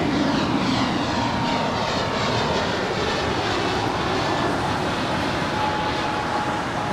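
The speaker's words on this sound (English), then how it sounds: "It's a 5-year-old A321." A five-year-old Alaska Airlines Airbus A321 departing LAX nonstop for Seattle, a loud sustained jet engine roar filling the air close by, with a constant broadband rush and a sweeping tonal whine.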